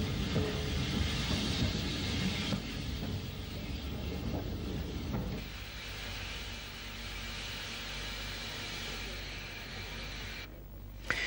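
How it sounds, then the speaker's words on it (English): An old London North Western train running on an Irish railway line along the shore of Carlingford Lough in the 1940s or 1950s, a steady, loud rumble and roar of the moving train with faint clatter throughout. "Our train skirts the shore of Carlingford Lough before it pauses at Omeath Station."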